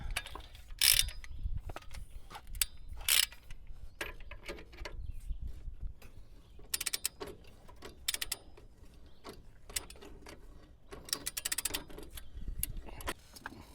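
Ball joint press being cranked down on a Chevrolet 2500HD front suspension, giving repeated metallic clicks, ratcheting and creaking mechanical bursts spread unevenly through the clip, close and moderately loud with no talking.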